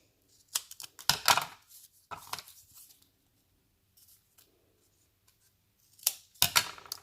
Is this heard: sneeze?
no